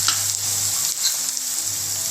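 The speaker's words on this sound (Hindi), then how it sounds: "हम इसको चलाएंगे, ये मसाले भूनेंगे।" Cumin, turmeric and coriander powder fry in hot oil in a pan for a methi matar malai curry, making a continuous close sizzle with light stirring sounds and no voices.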